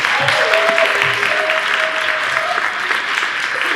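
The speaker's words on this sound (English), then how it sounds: "let's give a round of applause to Bonnie." Steady applause from a crowd fills the space, a dense wash of clapping that holds level throughout, with faint tonal sounds drifting underneath.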